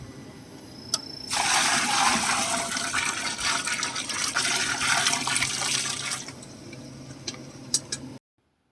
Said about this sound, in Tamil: ரசத்துக்கு தேவையான புளி தண்ணி சேர்க்குறோம்